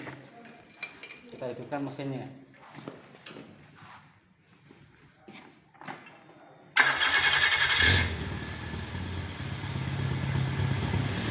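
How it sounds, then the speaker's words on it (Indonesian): A car engine is restarted after the IAT sensor cable is reconnected: speech first, then a sudden starter crank that catches into a steady, moderately loud running engine. "Kemudian kita hidupkan lagi mesinnya."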